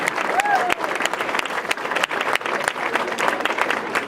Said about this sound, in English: You can clap at any point.